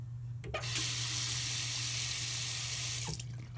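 Kitchen sink faucet running for a cat to drink from: a steady, close rush of water streaming into the basin for about three seconds, with a low hum underneath and no talking.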